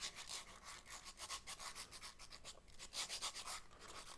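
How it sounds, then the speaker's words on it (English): Rolled sandpaper rubbing around a wooden piston box on a lathe, a steady rhythmic scratchy hiss pulsing back and forth, close and fairly quiet, with no speech. "sand around to there."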